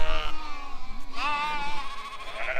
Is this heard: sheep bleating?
yes